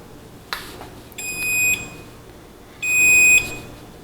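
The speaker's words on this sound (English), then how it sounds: "And there's the indication beep," Two short electronic beeps from a Cuisinart 4-slice toaster sound close and clear, a high steady tone repeated with a pause between, in an otherwise quiet room.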